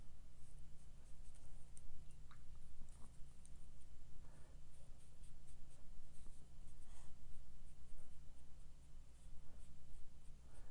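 A watercolour brush loaded with Viviva Colorsheets paint drags across paper in faint, soft scratchy strokes, close and quiet, with no talking.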